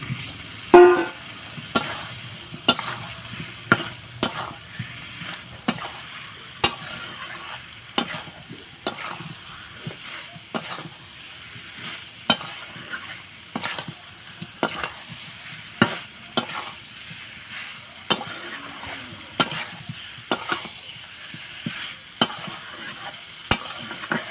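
Chunks of elephant foot yam and potato are stir-fried in a pan, a spatula scraping and clacking in a regular rhythm over a low continuous sizzle, close and clear.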